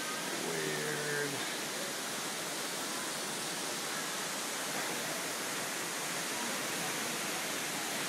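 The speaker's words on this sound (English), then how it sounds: "In a big hole, and there's a waterfall." Steady, dense rushing water fills the whole stretch, a constant broadband roar like a waterfall heard from nearby, with no break in intensity, from the Petit Jean waterfall dropping into a big hole.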